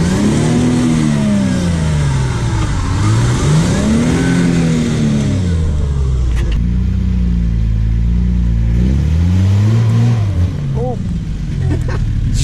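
A 4WD's engine revs hard again and again on a slippery high country track, loud and close with the pitch swinging up and down, while people talk over it.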